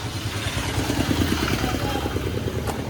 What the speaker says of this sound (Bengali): পেছনে একটা বাইক আসছে মনে হচ্ছে